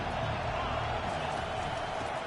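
A stadium crowd in the NCAA 25 college football video game roars as a drive begins, a dense, loud and unbroken wash of cheering noise that holds steady throughout.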